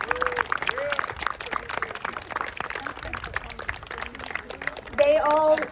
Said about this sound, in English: can we give a huge round of applause for all of our speakers today?